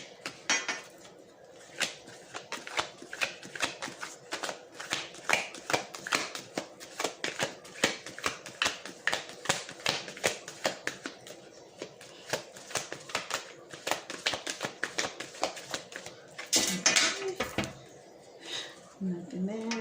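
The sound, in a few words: shuffling tarot cards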